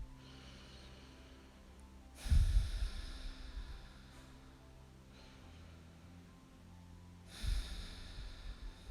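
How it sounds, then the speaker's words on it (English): Two deep, audible breaths taken while holding a yoga splits-pose stretch, each a loud rushing exhale standing out from a quiet room, the first around a third of the way in and the second near the end. "Let's take 2 deep breaths here."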